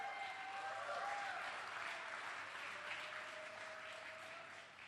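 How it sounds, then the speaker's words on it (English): Audience applause at a live-streamed BACARDÍ Legacy stage event, a steady wash of clapping that holds for several seconds at moderate distance and tapers slightly toward the end, with a faint tone running underneath. "Can we have a bigger round of applause?"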